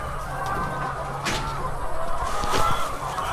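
Hens in a Filipino poultry house holding about a thousand chickens cluck and murmur as a constant flock, with a few sharper calls rising above the steady din.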